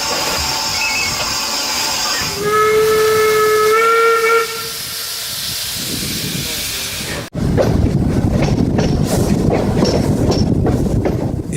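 A steam train on the metre-gauge Chemin de fer de la Baie de Somme sets off toward Saint-Valery-sur-Somme, with a loud, close steam whistle blast over heavy hissing, then an abrupt cut to a steady roaring steam exhaust.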